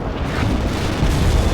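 Heavy artillery and airstrike explosions from the strategy game World in Conflict form a dense, continuous low rumble of blasts with no clear gaps, loud and close throughout.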